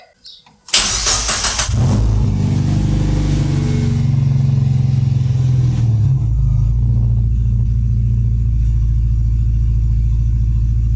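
A Mazda MX5 drift car with a DET3+ standalone engine management starts with a short cranking burst, catches loudly, then settles into a steady, close idle, with a person talking over it.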